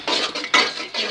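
Spices and onions frying in a tablespoon of oil while a spoon scrapes and stirs the pan, giving bursts of close metallic clatter and sizzle in uneven pulses.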